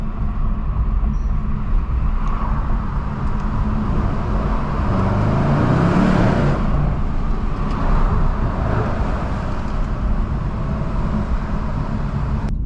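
A 600HP Mercedes E63S engine drones steadily from inside the car at night, with low road rumble and tyre noise holding constant throughout, no voices.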